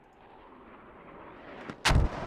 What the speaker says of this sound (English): Now some mortars coming in here